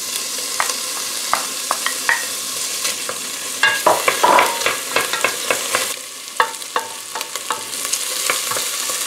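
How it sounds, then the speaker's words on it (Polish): Chopped onion, garlic and cucumber fry in hot fat for a beef goulash, a steady close sizzle broken by frequent sharp clicks and scrapes of stirring, with a denser burst of activity midway. "Do rozgrzanego tłuszczu wrzucam pokrojoną cebulkę z czosnkiem i ogórek."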